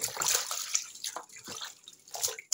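A dirty white sock rinsed by hand in a basin of fresh water after bleaching, giving close sloshing, swishing and dripping in uneven bursts, with no speech.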